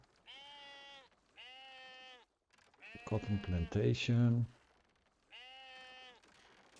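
Sheep on a sheep farm in the Masterplan Tycoon video game bleat in drawn-out calls: two near the start and one near the end. Someone talks between them in the middle.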